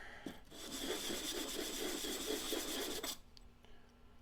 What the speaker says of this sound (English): I'm gonna get this corrosion off of here. To do that, this is 180 grit sandpaper.